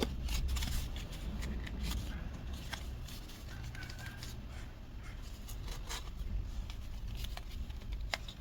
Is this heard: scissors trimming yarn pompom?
yes